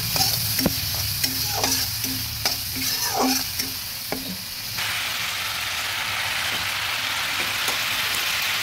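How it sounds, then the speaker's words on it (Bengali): Sliced banana stem fries in a pan with cumin and turmeric powder as a spoon stirs it in several close, knocking scrapes over a constant sizzle, then the pan is left hissing steadily alone. "ভালোভাবে নেড়ে দিচ্ছি।"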